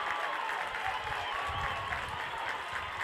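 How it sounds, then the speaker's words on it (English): Leopard fans in the stands at a Class 3A region final high school softball game stand and cheer, a distant, steady wash of applause and crowd noise lasting a few seconds. "And now the contingent of Leopard fans is going to stand and cheer"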